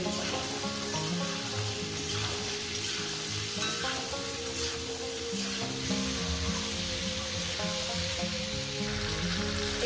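Potatoes with green chilies fry in a pan, a dense, steady sizzle that holds loud and close throughout, with stirring scrapes mixed in and no voices.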